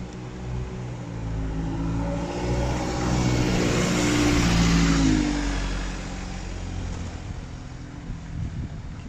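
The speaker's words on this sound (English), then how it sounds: "bus coming here." A bus approaching and driving past on a coastal village road by a small harbour, its engine rumble swelling to a peak midway and then fading, with steady wind noise.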